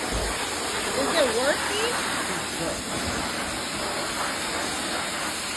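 A pressure washer blasts water onto dirty Birkenstock sandals, producing a continuous hissing spray that holds steady throughout, with a person speaking briefly over it.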